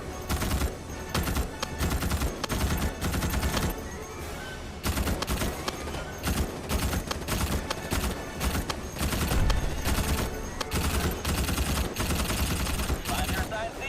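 Rapid bursts of Morita SAW machine gun fire in the Starship Troopers Extermination shooter game, dense repeated volleys running almost nonstop, loud and close, with short gaps and clattering battle noise mixed in.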